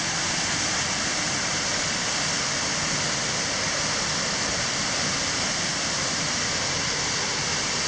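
A waterfall where salmon crowd into pools below the falls, a loud, dense and continuous roar of rushing water with no break.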